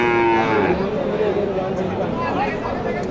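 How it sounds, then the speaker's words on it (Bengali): Pregnant cows at a rural cattle market in Naogaon low with long, loud moos close by, with market chatter and people talking underneath throughout. "এগুলো সব গাভীন গরু"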